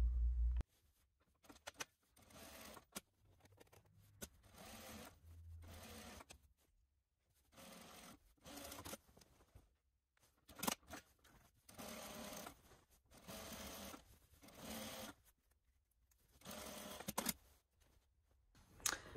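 Sewing machine top stitching the front of a Know Me ME2069 garment, running in several bursts of steady whirring with short pauses between them, close and fairly quiet with no talk.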